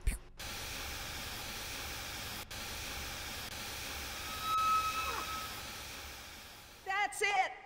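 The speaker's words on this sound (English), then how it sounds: "The steam has been vented." Steam venting in Jurassic Park: The Game, a steady broadband hiss running nearly the whole time with a brief cut near the start, while a voice talks over it.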